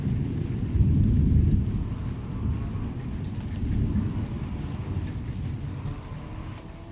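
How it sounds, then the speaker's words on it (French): A violent August thunderstorm rumbles with low, rolling thunder over a steady wash of heavy rain, with the loudest peal near the start and quieter swells afterward. "Je pense qu'on voit le cœur de l'orage devant nous là."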